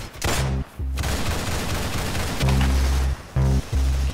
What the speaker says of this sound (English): Pump shoddy.